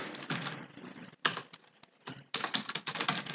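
Rapid keystrokes on a computer keyboard while writing text in MS Word, close and clear, in dense bursts broken by a brief pause midway.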